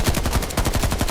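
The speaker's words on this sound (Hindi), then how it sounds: "ओपन फायरिंग हो रही है, हो सकता है ये पुलिस की फायरिंग भी हो।" Open gunfire in news footage, rapid automatic bursts of shots in a steady rattling rhythm, loud and continuous across the short stretch with no voices.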